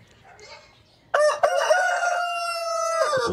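Close and loud, a Darag native rooster lets out a single long crow on an urban farm, following a second of faint background sounds and fading at the end.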